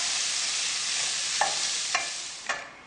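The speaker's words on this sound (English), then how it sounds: "Remember to keep mixing it, and as you cook it on a low flame, it's going to start releasing its own natural juices." Chopped zucchini sizzles steadily in a pan over a low flame, a constant bright frying hiss broken by three quick scrapes of a stirring utensil.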